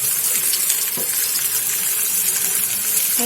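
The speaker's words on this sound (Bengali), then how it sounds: "এটার ভিতরে একটু জল দিয়ে নিলাম" Water poured into Kashmiri red chilli paste in a cooking pot, a steady close gushing rush that keeps an even level throughout with no talk.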